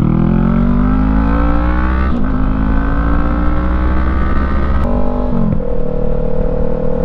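2017 Honda CB500F motorcycle being ridden, a loud close engine drone climbing in pitch through the gears with brief dips at shifts, wind rushing throughout and no talking.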